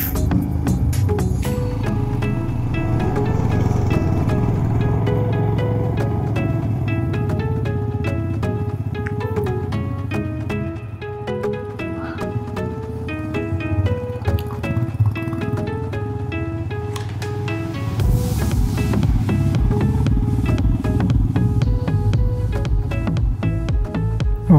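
Royal Enfield Himalayan motorcycles riding through the Himalayas in Ladakh, with a continuous rumbling engine drone and road noise close by, steady for the whole stretch.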